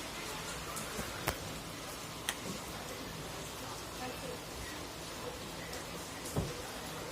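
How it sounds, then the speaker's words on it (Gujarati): Continuous rain falls at night in a steady, soft hiss, fairly faint, broken by a few isolated drip-like taps. "તો 9 વાગવા ને અહીંયા લગાતાર વરસાદ ચાલુ પડે."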